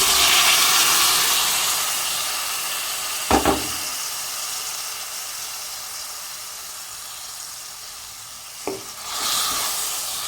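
Pre-cooked beef liver frying in a pan sizzles with a steady, bright hiss throughout, broken by two brief clatters as pieces are added and stirred.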